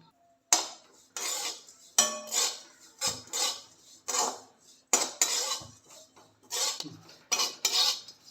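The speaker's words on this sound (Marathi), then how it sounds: "त्याच कढीमध्ये मी सुकं खोबरं घेतलं आहे ते भाजून घेते आहे" Dried coconut being roasted and stirred in a kadai, with repeated scraping and clinking of a metal spoon against the pan in bursts, close and fairly loud with short pauses between strokes.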